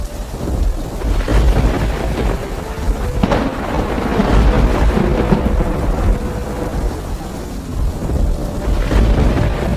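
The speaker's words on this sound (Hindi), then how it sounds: "तभी आसमान में बादल छाने लगता है और मूसलाधार बारिश होने लगती है" A heavy downpour hisses steadily while deep thunder rumbles and rolls through it, loud and close, with no voices present.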